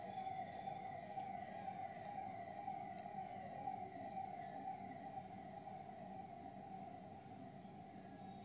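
A police van siren passes outside during lockdown, a steady wailing tone running loud and continuous for the whole stretch, with faint road noise beneath and no talk.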